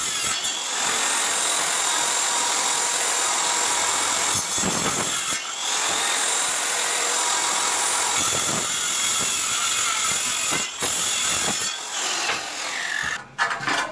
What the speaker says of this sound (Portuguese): Vou cortar quatro madeiras aqui com 85 centímetros